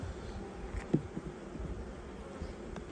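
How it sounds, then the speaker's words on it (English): Honey bees hum around a beekeeper at an open hive, a faint, steady buzzing that drifts close and away, with one soft tap partway through. "20 bees circling my head from the last inspection."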